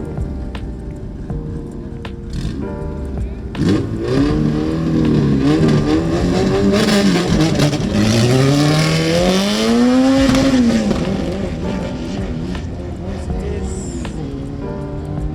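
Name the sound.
drag racing car sounding out of nitrous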